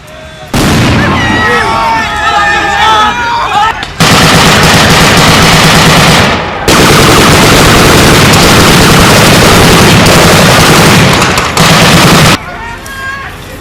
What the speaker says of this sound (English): The improvised bombs explode when the convoy stops, and soldiers now have to stop a potential ambush.